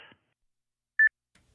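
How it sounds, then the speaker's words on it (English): A single short electronic double beep on a ham radio night live stream using an Icom IC-9700, clear and isolated amid near silence after a brief voice fragment. "The beep, beep, beep in my head."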